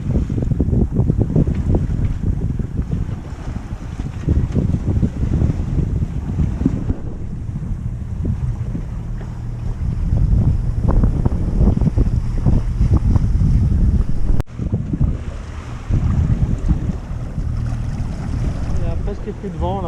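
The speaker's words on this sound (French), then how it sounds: "Donc on appuie avec le moteur." Sailboat motoring under engine in near-calm air, about 4 knots of wind, on a crossing from Palinuro to the Aeolian Islands off Lipari; a steady low engine drone runs throughout with wind buffeting the microphone and sea wash.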